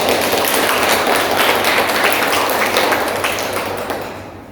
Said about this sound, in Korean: 우리가 이렇게 축복의 박수를 좀 하면 좋을 것 같습니다